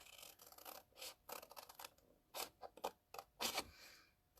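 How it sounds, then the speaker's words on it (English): Scissors snip through paper tabs on the bottom of a handmade Christmas candle box, a run of short, crisp cuts with brief pauses between them, close and fairly quiet. "Now on the bottom of our box, all of these tabs are just going to be cut up."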